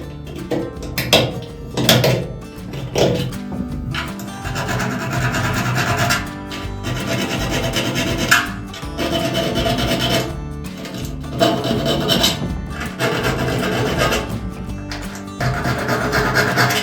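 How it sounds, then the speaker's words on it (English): Metal file rasping back and forth along the sharp edges of a new Vanagon gas tank, loud and close in steady repeated strokes with brief pauses between passes, no voices. "So I would highly recommend filing those edges and making them smooth."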